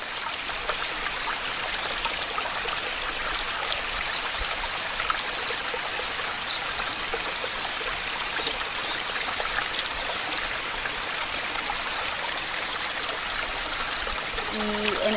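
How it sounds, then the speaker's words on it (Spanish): A constructed white-noise texture made to sound like a river rushes steadily and evenly throughout, a dense unbroken hiss like flowing water. "un ruido blanco que ha sido construido para dar la sensación de río"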